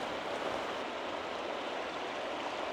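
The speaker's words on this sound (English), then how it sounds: "Trying to check out the river over here." A river flows through a forest just off a trail beside a bike path, giving a steady, even wash of rushing water that holds at a constant level throughout, with no voices.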